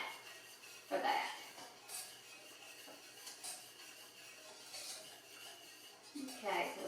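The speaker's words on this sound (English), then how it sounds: "Okay, so stirring these in good" A whisk stirs instant potato flakes into warm water in a mixing bowl, giving light scraping and clinking against the bowl. The sounds are quiet, with a few louder strokes near the start and end.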